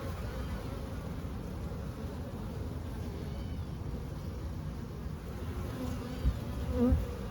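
Honey bees buzz steadily around an open hive during an inspection of a honey super, a close, dense droning hum throughout, with a few faint knocks near the end.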